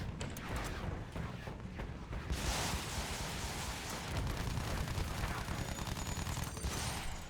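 Dense, continuous bursts of rumbling blasts and crackling gunfire-like noise from the war video game Battlefield 1, loud and chaotic throughout.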